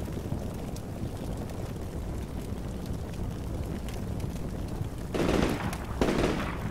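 Machine gun fire in the military game Combat Mission Shock Force 2: a steady, dense crackle of distant automatic gunfire running throughout, with two louder, closer bursts near the end.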